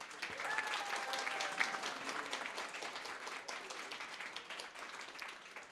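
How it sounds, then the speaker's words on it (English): Guests at a wedding reception applaud the bridesmaids with a dense, sustained round of clapping from a crowd that fades slightly toward the end, with a brief whistle-like tone early on. "Round of applause for our beautiful bridesmaids"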